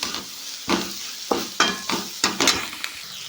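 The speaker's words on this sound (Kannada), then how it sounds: "ಇವಾಗ ಹುಣಸೆ ಹಣ್ಣಿನ ರಸ ಹಾಕ್ತೀನಿ" Tamarind juice goes into a spiced mixture frying in a pan, with sizzling under a series of sharp stirring scrapes at an uneven pace, close and fairly loud, no speech.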